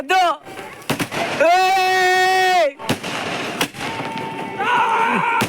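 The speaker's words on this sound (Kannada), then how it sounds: "ಹೆಂಗ್ರ ಇಕ್ಕಿದ್ದೀರ ಪಟಾಕಿಲೇ." Sharp cracking bangs of firecrackers go off in quick bursts at a New Year celebration amid loud excited shouting and talking nearby.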